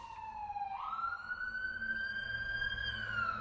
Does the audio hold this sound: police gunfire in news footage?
no